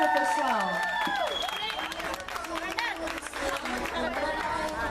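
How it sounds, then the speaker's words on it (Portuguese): Brief applause and clapping from a small group at a live tribute event in Ponte Rasa, São Paulo's east side, mixed with crowd chatter and voices that run under and over it throughout. "Aplausos para a Vitória, pessoal."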